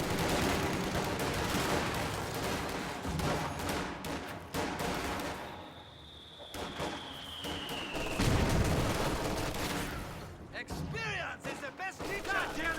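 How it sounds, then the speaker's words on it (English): Gunfire and explosions from a World War II strategy video game, including a mortar impact, dense battle noise with bursts of shots and booms, a falling whistle mid-way, and a voice talking over it. "Pretty nice mortar hit right there."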